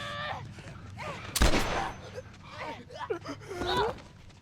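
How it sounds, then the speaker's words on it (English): A single sharp gunshot in the video game The Last of Us, a brief loud crack in the middle of a short stretch, with voices talking before and after it. "And now he just shot his brother."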